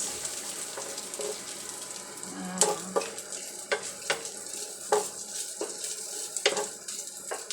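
Sautéed kangkong being stirred in a frying pan, with a soft continuous sizzle broken by sharp, irregular scraping and clanking strokes of the utensil, fairly close and moderately quiet.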